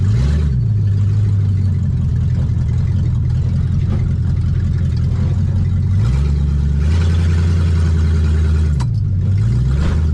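A Plymouth Duster with a 904 automatic transmission accelerates hard, its engine droning loud and steady, with audible downshifts dropping the revs around the middle and again near the end.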